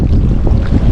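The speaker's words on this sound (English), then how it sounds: "And it's supposed to be windy today" Strong wind gusts buffet the microphone beside a small lake in Kearney, Nebraska, a loud, continuous low rumble over the brief moment.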